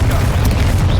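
Confringo fire spell blast in Hogwarts Legacy on PS5, a dense, roaring boom that fills the whole moment with rumbling, crackling explosive energy, loud and close.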